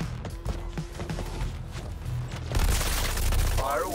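Gunfire during a Brainiac boss fight in the action game Suicide Squad: Kill the Justice League, scattered shots and bursts under voices, rising into a louder, denser barrage near the end.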